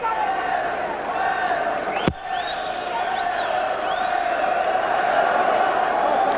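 A boxing arena crowd roars continuously at a WBO super middleweight title fight, with scattered whoops and whistles rising above the din and a sharp slam-like thud partway through, while a commentator talks over it.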